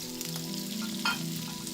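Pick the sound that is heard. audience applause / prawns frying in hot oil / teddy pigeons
prawns frying in hot oil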